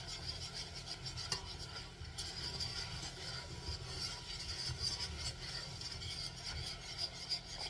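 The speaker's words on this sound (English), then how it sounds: "Keep stirring, keep stirring, keep stirring. It's trying to seize up on me." Caramel sauce being stirred in a pan, a steady scraping rub that keeps going without a break, close and moderately loud, with a faint sizzle behind it.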